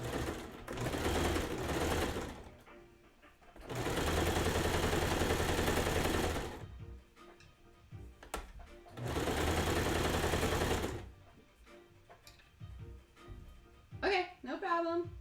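A sewing machine stitching clothing runs in three loud, steady mechanical bursts of several seconds each, separated by quieter pauses, with voices heard briefly near the end.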